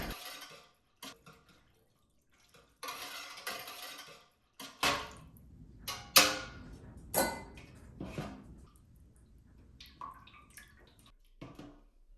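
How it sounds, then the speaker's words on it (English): A whisk works through red chili powder, salt, garlic and water in a pot, giving scattered metallic clinks and light scraping strokes in an irregular rhythm, close by with no talking. "Whisk that up."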